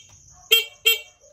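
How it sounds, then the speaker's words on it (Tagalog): A Rusi Macho 175 motorcycle horn wired with the passing light sounds two short, bright beeps about a third of a second apart, fairly close, over a faint high background tone. "Horn with passing light siya kasama."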